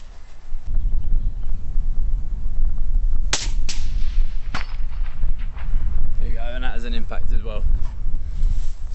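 A single sharp rifle shot cracks out at a distant steel plate target, followed by a second fainter report and a ringing impact, over steady outdoor wind noise and brief voices.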